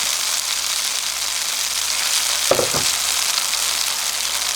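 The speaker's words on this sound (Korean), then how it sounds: "자, 그럼 이제 새우 한 마리 넣어볼게요" Battered shrimp frying in hot oil, a dense steady sizzle with one short bubbling burst midway as the shrimp goes in, close and continuous.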